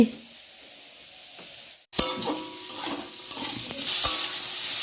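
Fried paneer, potato and peas sizzle in hot oil with spices after a brief quiet moment, with stirring scrapes and occasional clinks of a utensil against the pan.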